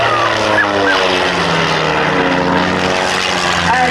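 Aerobatic propeller plane, faster than the Pitts Specials, performing at the Great Warbirds air display at West Malling in 1990; a loud, continuous engine drone with shifting pitch fills the whole stretch.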